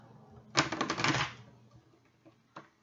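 A deck of tarot cards is shuffled once in a quick, close riffle of rapid papery flutters lasting under a second, followed by a faint tap and a quiet room.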